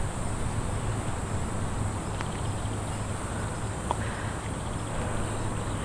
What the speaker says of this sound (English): Oh, the cicadas.